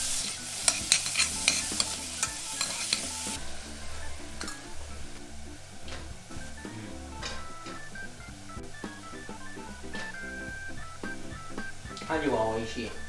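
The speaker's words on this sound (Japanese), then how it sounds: "玉ねぎ入れて弱火で炒めましょう。" Onion and celery sautéing over low heat for an octopus ragù, a soft continuous sizzle under frequent spoon scrapes and light clinks against the pan, while a voice talks throughout.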